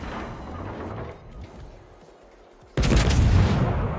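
A warship's turret guns in a naval video game fire in one heavy, sudden broadside that bursts out after a quieter stretch of rumbling ambience, loud and sustained.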